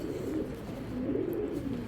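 A foreign racer pigeon giving low, soft, continuous cooing close by, alone without talk.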